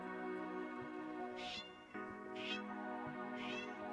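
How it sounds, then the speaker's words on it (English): A pet cat meows indoors, three short cries about a second apart, fairly close and moderately loud over a steady background hum. "My cat is going crazy over here."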